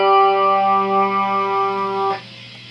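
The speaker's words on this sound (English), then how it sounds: "So then if we turn the echo off, you have chorus yet." Electric guitar played through a Rockman headphone amp with chorus on and echo off: one sustained, shimmering chord rings loudly and evenly, then cuts off abruptly near the end.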